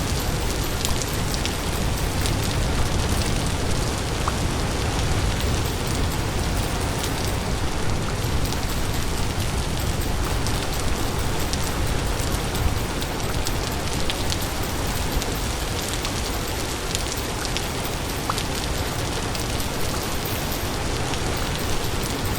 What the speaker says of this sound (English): Save me from the rain.